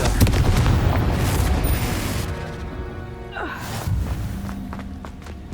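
A Confringo blasting spell detonates in Hogwarts Legacy, heavy booming explosions with rumbling roar, a sharp whooshing streak midway and more blasts following, loud and close without speech.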